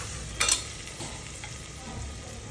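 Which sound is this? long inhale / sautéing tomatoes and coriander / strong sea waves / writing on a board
sautéing tomatoes and coriander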